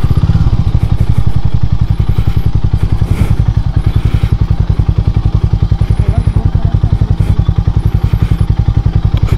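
A Harley-Davidson X440 motorcycle riding off road on a rough track, its single-cylinder engine thumping in a steady, fast rhythm, loud and close throughout, with some clatter from the rough ground.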